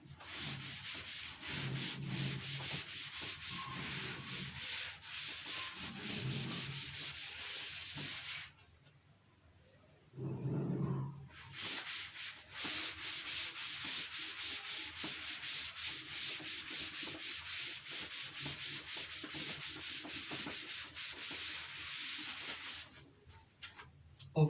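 Steady rubbing of a duster wiping chalk or marker writing off a classroom board, repeated strokes running for most of the clip with a brief quiet pause midway, near and fairly loud, with no talk over it.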